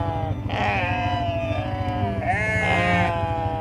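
Sheep bleat on a farm, two long wavering calls close by, one after another, over a steady low engine-like drone.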